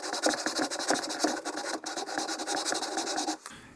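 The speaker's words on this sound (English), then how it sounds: "when you're doing the lapping, you want to go up and down as well as back and forth" Scope rings on an LR308 rifle are lapped by hand, a close, rapid gritty scraping in quick back-and-forth strokes that stops abruptly near the end, with no speech.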